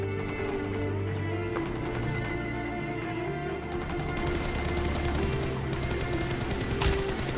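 Gunfire in the BGMI mobile battle-royale game during a duo ranked match, rapid automatic bursts repeating over a constant dense background of in-game noise.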